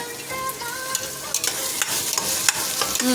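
Vegetables for a vegetable biryani being stirred in a pan, with a steady sizzle and repeated sharp clinks of a spoon against metal, close and alone without talk.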